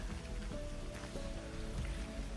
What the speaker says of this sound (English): It's raining, but the canopy is so thick you can't really tell. You just hear it.